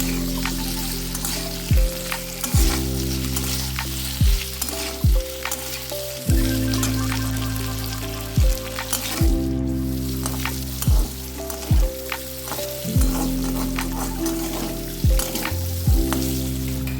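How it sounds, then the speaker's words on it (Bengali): Boiled potato pieces fry with ginger paste, asafoetida and curry leaves while being stirred, a steady close sizzle broken by occasional scraping strokes, with music playing prominently over it. "সামান্য আদা বাটা দিয়ে নেড়ে চেড়ে নিচ্ছি।"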